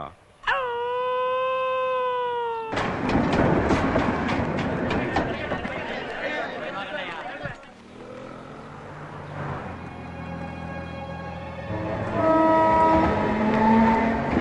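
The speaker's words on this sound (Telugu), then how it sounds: "శివాజీ బండి బయలుదేరింది" A train departs with a long horn blast, followed by loud rumbling and clattering of the cars rolling away, while background music rises near the end.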